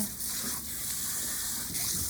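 Water runs over hair during a wash, a steady, soft hissing flow that continues unbroken with no talking.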